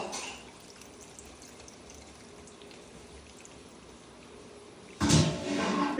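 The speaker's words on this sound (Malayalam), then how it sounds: "അപ്പം ഇനി പുളിവെള്ളം ഒഴിക്കുക കേട്ടോ." Tamarind water pours into a sesame and bitter gourd curry: a faint background trickle, then a louder, brief splashing pour near the end.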